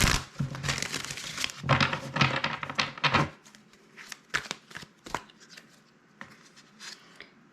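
Tarot cards being shuffled, a rapid dense flutter of riffling card edges up close, then scattered slaps and taps as the deck is handled and cards are laid out.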